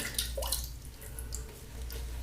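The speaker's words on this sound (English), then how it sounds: "So, drip some water onto the brush" Water drips and splashes faintly onto a shaving brush over a lathering bowl, a few soft wet taps over a low background hiss.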